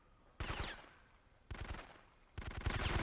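Gunfire from the PS1 shooter Syphon Filter: three loud bursts of rapid automatic shots, each lasting about a second, separated by brief pauses with a quiet background hiss.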